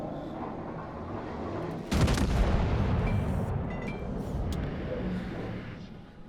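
Battleship main guns fire in World of Warships, one heavy booming salvo that bursts in suddenly and rumbles on as a long, loud roar, followed by lighter distant cracks as it fades, with no talk over it.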